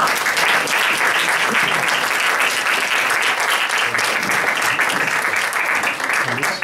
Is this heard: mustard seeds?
no